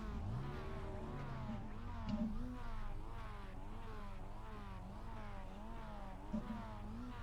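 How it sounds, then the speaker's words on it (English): Mazda MX-5 Cup race car in the iRacing game at Oulton Park, its engine running close and steady with a rhythmic rise and fall in revs, punctuated by a few brief sharper blips. "get the car fired up"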